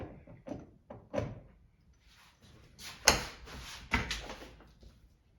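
A series of knocks and thumps, then the door of a Harbor Freight square drop camper rattling and closing with a couple of solid bangs and some shuffling.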